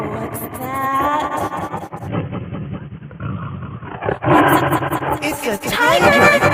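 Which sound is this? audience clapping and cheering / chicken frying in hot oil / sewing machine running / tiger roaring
tiger roaring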